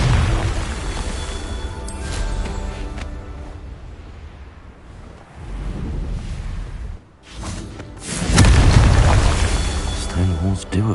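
Magical blast explosions in a Hogwarts video game, with booming bursts and whooshes that swell and fade over a steady game soundscape, the loudest burst arriving late.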